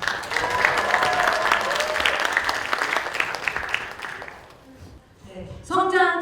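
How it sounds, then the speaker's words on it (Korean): A full hall of listeners at a political forum gives sustained applause for an incoming presenter, dense and loud for about four seconds before fading, followed by a voice speaking up close. "큰 박수로 맞이해 주시죠"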